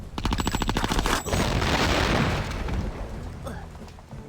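Rapid gunfire from the Conker: Live & Reloaded video game, a dense burst of repeated shots followed by a loud blast and a lingering rumbling tail, with no talking.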